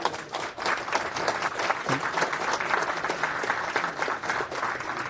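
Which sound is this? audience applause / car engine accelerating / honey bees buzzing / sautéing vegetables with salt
audience applause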